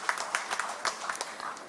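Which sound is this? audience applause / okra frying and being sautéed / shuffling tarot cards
audience applause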